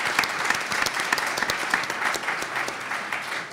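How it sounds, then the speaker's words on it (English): Applause from the audience at a mobile technology security discussion, a steady round of many hands clapping at moderate volume, fairly close and continuous throughout with no speech on top. "a round of applause for Sree, who I think did a phenomenal job."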